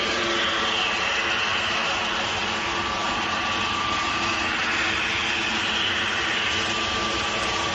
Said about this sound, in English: TUI Dreamliner making its way out as well